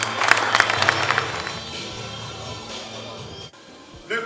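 Audience at an amateur football awards evening clapping warmly for an honoured club president, a dense burst of applause that fades into room murmur, then a short loud sound at the end.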